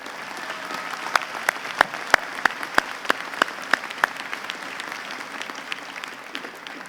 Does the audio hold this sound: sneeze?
no